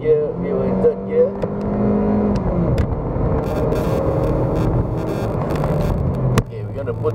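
A Kia Cerato C-segment sedan's engine drones steadily in third gear on a test drive up toward Genting, with continuous engine and road noise throughout and a voice speaking over it.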